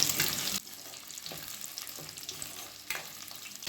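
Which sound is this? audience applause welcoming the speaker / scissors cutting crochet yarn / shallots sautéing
shallots sautéing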